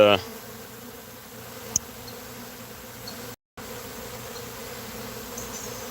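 A dense, steady buzzing of many bees fills the air, a continuous droning hum that barely changes and briefly cuts out.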